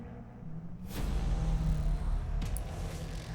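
Race cars in Need For Speed 2015 rev and surge forward at the start of a sprint race, a steady engine drone that swells louder after the first second and holds as a loud continuous roar.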